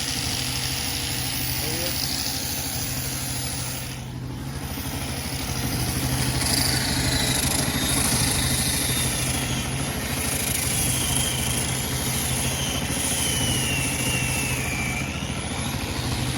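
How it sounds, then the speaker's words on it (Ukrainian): A homemade 2.2 kW generator engine runs steadily and fairly loud, a continuous mid-pitched drone with hum throughout, while a person talks over it. "Отак працює в нас такий генератор."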